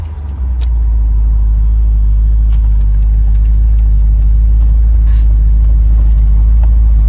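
A black 1968 Shelby GT500 KR convertible with a factory 4-speed drives steadily, its engine a loud, close, continuous low drone with a slight dip near the start where a gear change may fall; no one talks.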